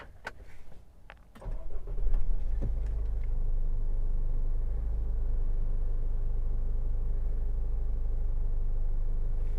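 A 2021 Isuzu Mu-X starts up after a brief whir and click, its engine catching with a rising rumble before settling into a steady, low idle that continues close by.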